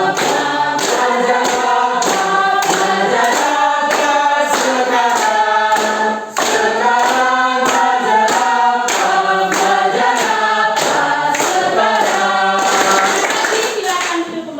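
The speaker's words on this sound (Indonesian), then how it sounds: "Kita mulai dengan tepuk tangan." A classroom of students claps hands together in a rhythmic pattern while singing in unison, loud and close, with a steady beat running through the chant.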